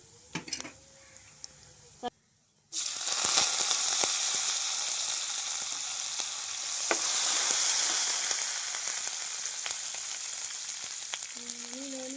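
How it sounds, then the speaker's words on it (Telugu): Loud, continuous crackling and spluttering of cumin seeds in hot oil for tempering, with occasional clinks of a utensil against the pan. "తాలింపు అయితే ఎగిపోయిందండి"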